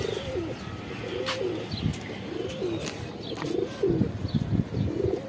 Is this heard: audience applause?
no